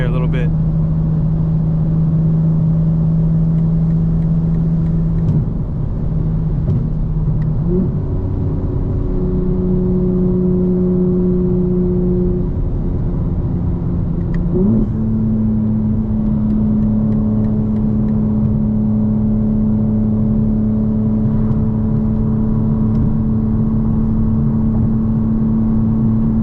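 Engine of a 2025 BMW M4 Competition xDrive on a night drive, a steady low drone with rising and falling tones as it shifts through gears, constant cabin road noise throughout, with someone talking over it.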